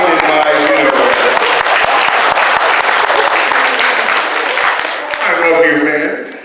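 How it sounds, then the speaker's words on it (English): Audience applause for a guest on a comedy podcast, steady and loud throughout with scattered voices mixed in and a brief lift near the end. "Taking applause anywhere I can get it"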